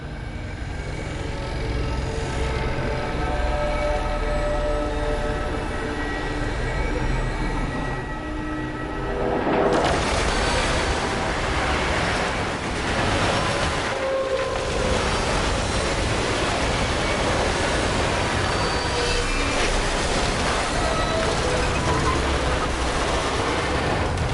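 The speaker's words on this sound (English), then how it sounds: "I've seen primitive trains like this in old ruins." A train rumbles past in the video game Destiny 2, a long, loud, continuous roar of rolling noise that swells in the middle and stays steady without speech.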